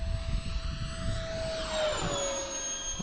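An FMS A-10 V2 radio-controlled model jet makes a full-throttle low pass, a steady loud turbine whine with a clear Doppler drop in pitch as it sweeps by close overhead, no voices.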